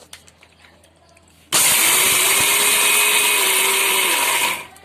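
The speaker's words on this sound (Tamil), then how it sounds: "நம்ம மிக்சர் ஜாரில் போட்டு அரைச்சிக்கலாம்" A mixer grinder jar grinding roasted peanuts with salt starts abruptly and runs as a loud, steady high whirring roar for about three seconds, then winds down; faint kitchen clatter precedes it.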